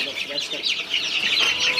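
A cluster of bobwhite quail chicks chirping rapidly in high, overlapping peeps in a coop, close and fairly loud, with no talking.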